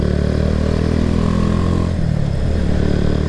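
A Kawasaki W175 SE motorcycle is ridden on light throttle. Its engine gives a loud, steady, close drone with mechanical clatter that holds evenly throughout and eases slightly toward the end.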